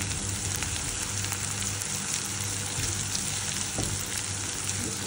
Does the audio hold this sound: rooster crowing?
no